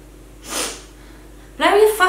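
A voice imitates someone sniffing over and over, with a short breathy snort followed a moment later by louder nasal sniffing sounds, close and alone.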